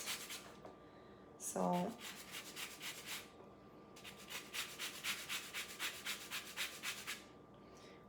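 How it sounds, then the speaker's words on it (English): A freshly washed lemon is scraped against a zester in short rasping strokes: one brief pass, then a longer run of quick, even rubbing strokes, close and fairly quiet, with a person talking. "So you just wash the lemon, and then you just put a little bit of lemon zest."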